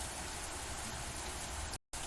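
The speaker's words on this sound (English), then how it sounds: "I heard the piercing sound of the rain." Steady rain pours down in a video game scene, a dense, even hiss that holds continuously and then cuts out abruptly near the end.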